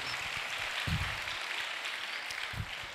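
Sustained applause from an audience at a Maulid Nabi religious lecture, a dense steady wash of clapping filling the whole stretch, fairly loud and near, with a few low thumps underneath.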